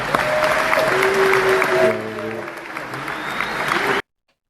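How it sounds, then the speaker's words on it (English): Crowd clapping at a loud, rowdy gathering, dense applause for a couple of seconds that thins out, with tonal background noise mixed in before cutting to silence. "Round of applause, guys."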